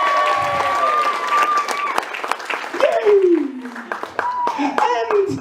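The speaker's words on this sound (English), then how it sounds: "massive round of applause." Audience applause after a magic trick at a gumball machine performance, a crowd clapping steadily and loudly throughout, with voices, cheering and children's chatter rising above it.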